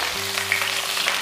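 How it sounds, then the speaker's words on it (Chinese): A whole sea bass sizzles in hot oil in a wok over medium heat, a steady close frying crackle with a few small pops, no talk. "油热后，把我们的鲈鱼放进去，"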